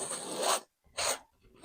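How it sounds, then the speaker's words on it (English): A palette knife scrapes acrylic paint across a surface in three short, close, rasping strokes separated by brief silences. "Add a bit of paint and then scrape it off with a palette knife."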